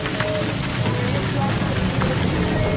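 Rain falling steadily at a beach, a dense, even hiss of drops on surfaces that carries on throughout, with a voice faintly underneath.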